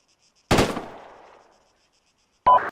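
Gunfire during personal weapons training at pop-up targets: a single loud, close shot with a trailing echo, then a second sharp shot after a pause of about two seconds.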